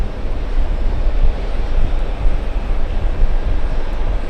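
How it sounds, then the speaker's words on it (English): A Boeing 747 jet passes right overhead near Los Angeles airport, a loud, close, continuous low-pitched roar with wind buffeting the microphone and no voices. "Big 747 flying right above us."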